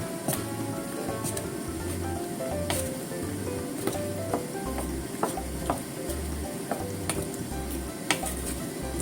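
Plums for jam simmer in a pot, giving a steady close bubbling sizzle with faint stirring and occasional soft clicks, no talk.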